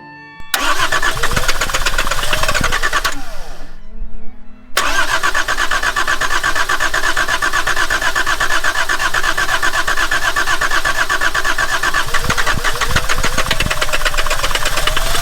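A turbo diesel Volvo 740 D24t, abandoned and with cracked injector lines, cranks over and fires, then settles into a loud, rough, clattering idle that runs steadily with a brief dip partway through.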